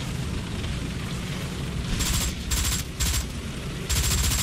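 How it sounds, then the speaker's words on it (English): Tank machine gun fire in War Thunder, several short loud bursts of rapid shots separated by brief pauses, over a constant low rumbling engine drone. "I just like messing with the machine guns."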